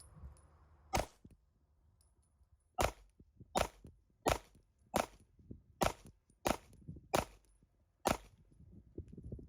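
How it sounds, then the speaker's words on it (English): A Glock 43X pistol with a tungsten guide rod fires a magazine: nine sharp, loud shots, the first spaced apart, then a fairly steady rhythm of about one per second, with quiet gaps between. "All right, for my second mag"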